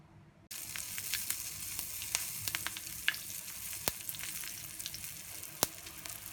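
Mustard seed, cumin seed, slit green chili, curry leaves and dry red chili hit hot oil in a pan, setting off a loud, steady sizzle with scattered sharp pops and crackles throughout.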